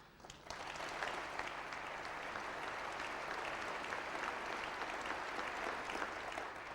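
Audience applause at a political referendum conference hall, a broad and steady round of clapping that starts quietly and swells within the first second, then holds evenly throughout, heard from a distance.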